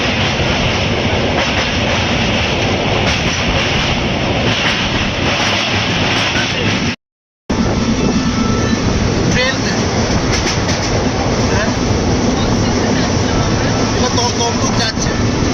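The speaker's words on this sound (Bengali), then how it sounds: "মেচেদা ক্রস করে ট্রেন এখন তমলুকের দিকে যাচ্ছে।" A passenger train runs from Mecheda towards Tamluk in West Bengal, making a loud, continuous rumble and rattle of wagons on the track. There is a brief dropout midway.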